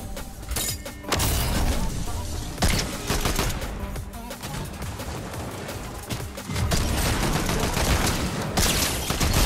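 Rapid gunfire in Fortnite, including a gold hand cannon, with dense bursts of shots and impacts repeating throughout, loud and close, with brief gaps between volleys.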